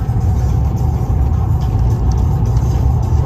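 Truck engine running steadily while on the move, a constant close low rumble with road noise filling the cabin and no voices.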